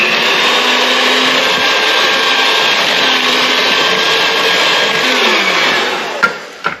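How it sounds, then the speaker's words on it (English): An electric mixer whirs steadily through fruit cake cookie batter with egg and vanilla, a loud, continuous motor drone that holds for several seconds before slowing and stopping with a couple of clunks near the end. "I'll mix this in"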